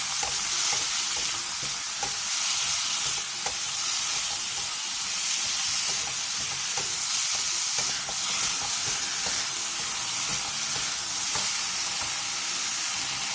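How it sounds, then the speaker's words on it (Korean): Potatoes stir-fried over high heat in an oiled pan with salt and minced garlic make a steady, loud, close sizzle throughout, with soft scrapes of the spatula stirring. "감자와 소금 3분의 1스푼, 다진 마늘 3분의 2스푼을 넣고 센 불에서 3분 정도 볶아주세요"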